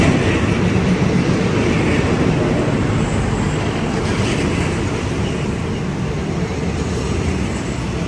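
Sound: train passing through Chiang Rak railway station

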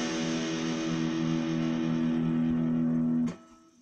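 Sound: distorted electric guitar playing Tales from the Crypt riff

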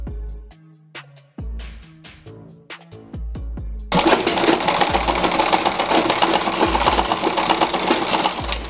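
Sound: sewing machine backstitching a dress seam

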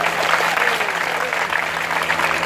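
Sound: audience clapping

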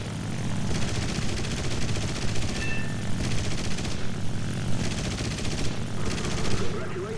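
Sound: gunfire in the video game War Thunder

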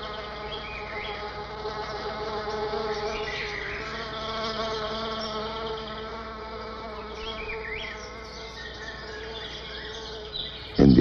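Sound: iridescent orchid bee buzzing

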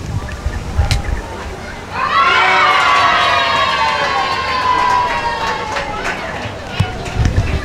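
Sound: applause and cheering from a crowd indoors

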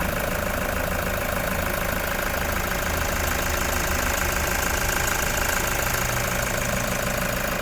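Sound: Toyota Commuter 3.0 diesel van engine idling

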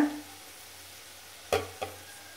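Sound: curry leaves and Kashmiri chili powder stirred in hot oil

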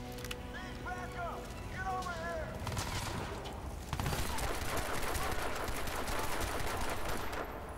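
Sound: pistol gunfire in the video game Crysis 2

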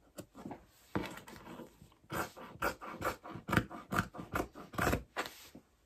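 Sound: scissors cutting fabric

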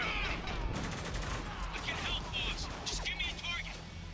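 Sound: gunfire in the video game Spec Ops: The Line

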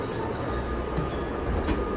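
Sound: train ride on a rainy day

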